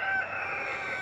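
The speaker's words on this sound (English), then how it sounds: "that rooster is working, doing his job pretty good now" A rooster crows on a homestead, one sustained loud crow filling the whole moment, close by with no talk over it.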